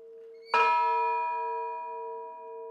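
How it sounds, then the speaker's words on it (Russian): A single strike of a church bell rung before a Sunday service in Norilsk, a loud clear clang followed by a long, slowly fading ringing tone. "Перед воскресной службой староста прихода 40 раз звонит в колокол."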